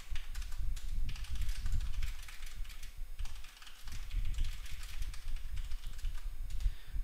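Keystrokes on a computer keyboard while code is typed into a Linux terminal Python interpreter, a steady close-up clatter of rapid taps in bursts with a brief pause midway.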